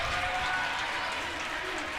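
Crowd at a high school boys varsity basketball game cheering and applauding during a timeout, a dense, steady roar of many voices and clapping that fills the whole moment.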